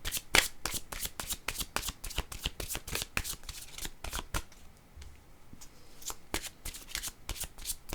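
A deck of tarot cards being shuffled close up, a rapid series of sharp riffling slaps and flutters with brief gaps, no voices.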